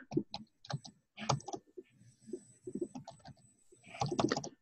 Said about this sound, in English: my typing ain't that good.